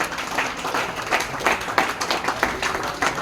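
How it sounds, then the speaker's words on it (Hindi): Audience applause at the final of a memorial cricket tournament, a steady patter of many hands clapping with rhythmic swells, fairly close and continuous without speech. "आपकी तालियां बजती रहनी चाहिए। मैं ताली देना शुरू कर दूंगा।"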